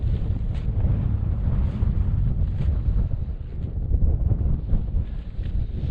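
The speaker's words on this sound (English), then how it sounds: "although it's quite a wee chilly wind again" Cold wind gusts across an open Scottish hill summit at a camp on Beinn Bheula, a steady loud rush buffeting the microphone throughout with no voices.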